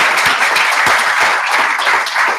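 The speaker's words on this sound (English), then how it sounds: "I think we should give them a big round of applause." An audience at an energy breakout session applauds three winners, a loud, close round of clapping with distinct individual claps standing out in a fairly steady stream.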